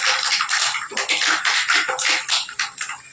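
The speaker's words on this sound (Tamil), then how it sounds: "கடுகு நல்லா பொரிஞ்சிருச்சு." Mustard seeds splutter and pop in hot oil in a pan, a dense crackling sizzle of rapid irregular bursts, close and fairly loud, with no talking.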